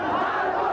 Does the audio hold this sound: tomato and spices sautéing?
no